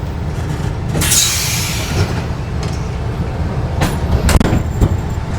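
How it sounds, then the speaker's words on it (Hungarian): A departing Adria InterCity passenger train rumbles steadily with low, continuous rolling noise, broken by a few sharp clanks and brief metallic squeals as it gets underway. "elindult a vonat"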